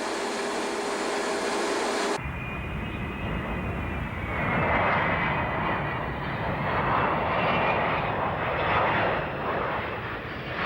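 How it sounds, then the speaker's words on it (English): Avro Vulcan bomber XH558 passing overhead during an RAF flight display, a loud sustained engine roar that swells and holds with a broad rushing tone, after an abrupt cut from a quieter background. "XH-558 delighted her many admirers gathered to watch the Vulcan's final flight as an RAF display aircraft."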